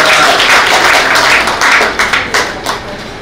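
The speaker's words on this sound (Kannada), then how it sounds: "ಚಪ್ಪಾಳೆ ಸಿಕ್ಕಿ ಆಯಿತು" Audience applause at a public Ganesh festival committee event hosting a blood donation camp, a steady broadband clatter of many hands that thins out toward the end into a few scattered claps.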